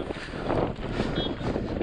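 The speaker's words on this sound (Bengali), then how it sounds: "আর কনকনে ঠান্ডা হাওয়া।" Freezing cold wind on a high-altitude mountain trail on the Adi Kailash route, a steady loud roar buffeting the microphone throughout, with no talk.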